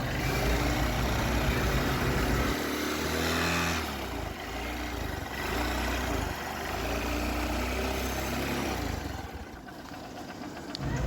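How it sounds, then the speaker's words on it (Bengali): A used Hero motorcycle engine idles up close, a steady low rumble with a continuous mechanical throb and light ticking running throughout without talk. "ইঞ্জিনের খুব কাছ থেকে আপনাদেরকে সাউন্ড শোনানো হচ্ছে"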